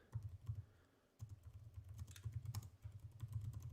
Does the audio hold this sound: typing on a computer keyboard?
yes